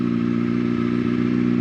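A 2005 Yamaha R6 motorcycle idles with its exhaust running, a steady close, loud engine drone with an even rapid pulse and no revving.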